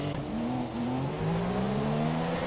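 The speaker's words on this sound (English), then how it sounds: "NS Legends has missed his braking point dramatically." Racing car engine in a video game race in the wet at Malaysia, its pitch sweeping up and down steadily as it revs, moderately quiet and heard alone without commentary.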